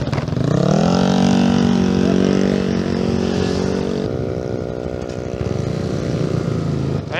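A motorcycle passing close by, its engine note whining upward as it nears, then holding a steady drone before dropping away and thinning out.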